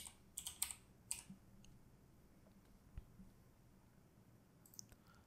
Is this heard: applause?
no